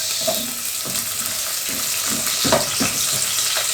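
Onions sizzle in a hot pan, a steady broadband frying hiss with a few soft stirring knocks, close and fairly loud, no voices.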